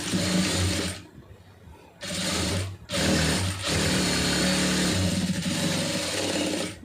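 Sewing machine stitching a blouse lining, loud close bursts of fast mechanical chattering separated by short pauses, the last run long and steady.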